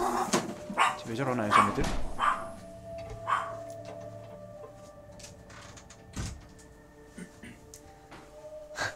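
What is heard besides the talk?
dog barking in Fallout 4 video game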